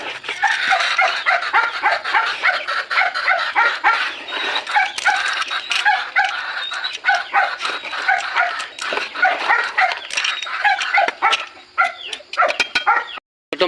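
Dog named Thomas barks, yips and whimpers excitedly in a rapid, continuous stream close by, waiting to be fed, with a rooster faintly in the background.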